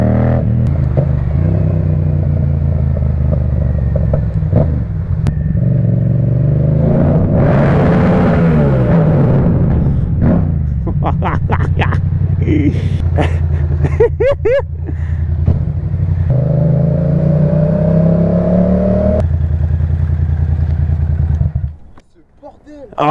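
A motorcycle engine revs hard and loud for most of the stretch with rising and falling pitch, throttle blips and clattering, close by, then cuts out near the end; no talk over it.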